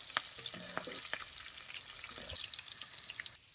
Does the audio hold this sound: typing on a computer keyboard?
no